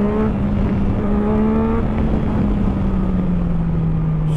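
A 2016 Yamaha MT-09 Tracer motorcycle engine revs hard and steadily, a loud continuous drone that rises and then settles into a sustained roar with no talk over it.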